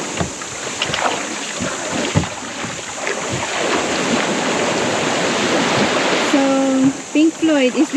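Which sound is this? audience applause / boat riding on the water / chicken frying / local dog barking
boat riding on the water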